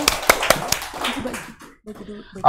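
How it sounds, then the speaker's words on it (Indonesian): Audience applause at a hijab fashion show: a few sharp, separate hand claps near the start, fading into scattered claps and brief voices, then a loud sound at the end. "Oke, tepuk tangan."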